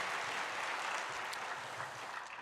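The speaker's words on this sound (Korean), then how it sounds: "감사의 박수를 드립니다" A short burst of applause during a church service, a congregation clapping steadily at a moderate distance, fading slightly toward the end.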